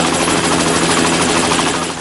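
Three Lama helicopters lift off at a tower construction site, their steady rotor and engine drone loud and continuous throughout, with no voices.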